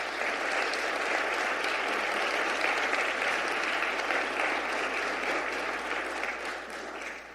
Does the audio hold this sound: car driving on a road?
no